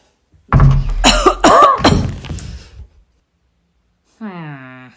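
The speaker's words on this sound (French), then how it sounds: "J'ai toussé." A few rough, forceful coughs close by, followed after a pause by a short voiced sound.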